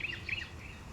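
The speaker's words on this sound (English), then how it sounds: "my cat heard the birds chirping in the game and went on high alert" Small birds chirp in the PowerWash Simulator game, two quick high twittering bursts close together, then quiet ambient background.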